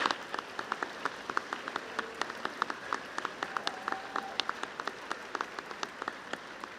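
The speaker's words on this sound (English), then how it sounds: "please join me one more time in a big round of applause for the class of 2030" Scattered applause from the audience at an 8th grade promotion ceremony, a steady stream of sharp individual claps with no big swell, heard at moderate distance in a hall.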